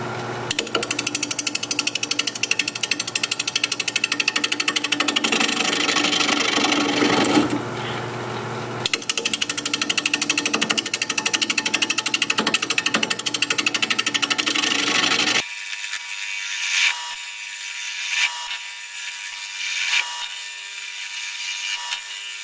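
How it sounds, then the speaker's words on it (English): Green log being turned into a bowl on a lathe at 750 RPM with a 5/8 inch bowl gouge: a steady, loud scraping and rushing cut, briefly pausing, then continuing more lightly with rhythmic tool chatter, with no talking. "We're going to be turning at 750 RPM, 5/8 inch bowl gouge"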